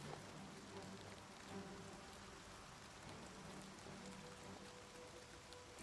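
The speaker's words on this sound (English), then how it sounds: "see if the rain going away helps" In the video game Oblivion Remastered, steady rain falls in a dense, even hiss that continues unbroken and alone, without speech or distinct thunder.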